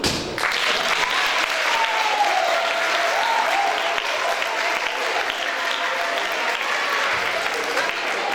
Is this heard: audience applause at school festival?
yes